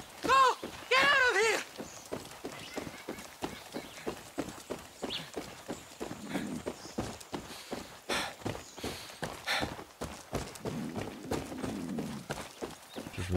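Horse hooves clip-clop steadily in the video game Far Cry 6, a quick even rhythm running through the whole stretch, with a few louder bursts of game sound and a brief thud near the start.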